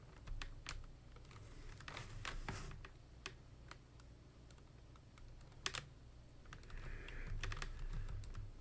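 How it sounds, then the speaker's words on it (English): Fingers tap coordinate points into a computer keyboard in quick, irregular bursts of close clicks, with a steady low hum underneath and no talking. "Just gotta type in a few coordinate points."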